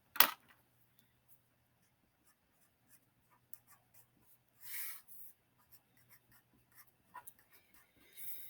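Marker or pen drawing on a board during a math lesson on customary weight, heard as sparse, faint scratches and taps with a few louder strokes, close and quiet, with no talking.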